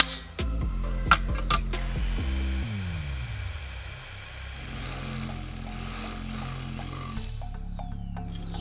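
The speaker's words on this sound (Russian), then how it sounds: "Терню и сверлю отверстие." A power drill whirs and changes pitch as it bites into a metal strip, drilling a hole, with mechanical clicks and a steady motor hum, close up and without speech.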